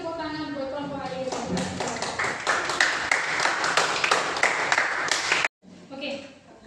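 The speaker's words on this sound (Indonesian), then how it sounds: "Kasih tepuk tangan buat kelompok lain." A classroom of students claps together, a burst of dense applause lasting several seconds after a spoken instruction, then it cuts off abruptly.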